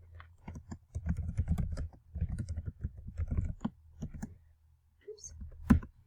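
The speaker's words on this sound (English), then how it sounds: "My N sticks on my keyboard." Quick bursts of typing on a computer keyboard with a sticking N key, clustered clicks coming in short runs with brief pauses and one louder tap near the end, close and fairly quiet, with no speech.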